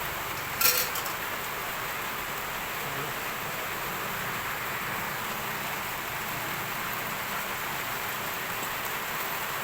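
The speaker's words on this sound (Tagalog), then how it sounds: "Hanggang ngayon, naulan pa rin dito." Steady rain falls outside during rainy weather, a continuous even hiss with a brief clatter near the start, moderately loud and with no voices.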